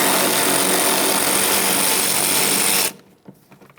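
A power tool whirs continuously for about three seconds, backing out a 10mm bolt on the coolant reservoir of a 1998-2011 Ford Ranger 2.3L, then stops abruptly, leaving a couple of faint clicks.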